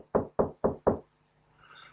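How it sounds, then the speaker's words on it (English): Four evenly spaced, solid knocks on a door, close and loud, followed by a faint hiss of background noise. "Knock on the door."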